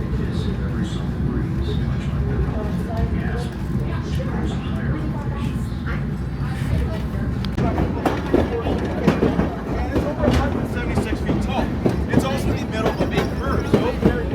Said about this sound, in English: See the front of the train.